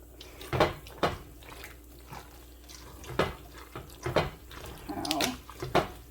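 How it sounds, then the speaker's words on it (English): Starchy pasta water is poured into a pan on the stove, with uneven splashes and sloshing bursts, close and moderately loud, mixed with light kitchen clatter. "I'll pour some of the pasta water in here"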